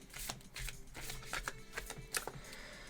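Tarot cards shuffled by hand in a rapid run of soft papery riffs and flicks, close and fairly quiet, with no talk over it.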